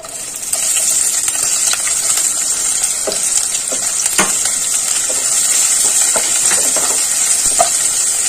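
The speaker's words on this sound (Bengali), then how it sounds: "ফোড়নটা ভাজা ভাজা হয়ে গেছে। এবার আমি দেব পেঁয়াজ কুচি।" Chopped onion goes into tempered whole spices frying in oil in a pan for a spicy crab curry, raising a loud, steady close-up sizzle broken by scattered clicks and scrapes of the spoon stirring.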